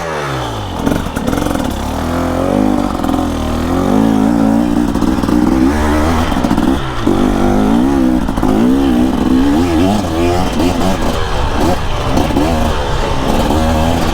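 A 2024 KTM 300 EXC two-stroke dirt bike being ridden on a special test course, its engine loud and close, revving and dropping repeatedly with continuous throttle changes throughout.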